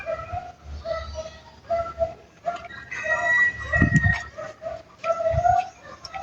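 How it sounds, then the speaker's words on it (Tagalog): Birds call steadily and overlap, with low cooing and sharper chirps near and far, and no talking. "Maraming ibon dito."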